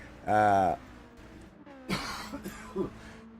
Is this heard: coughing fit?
yes